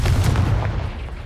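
A fiery Confringo blast spell cast in Hogwarts Legacy, heard as a loud, booming burst with a heavy low rumble that carries through the whole short moment.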